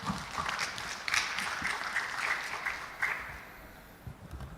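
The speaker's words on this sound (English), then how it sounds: "give applause" Applause from a conference audience at The Battery Show Indonesia, a steady wash of clapping that swells, holds for several seconds, then thins out near the end.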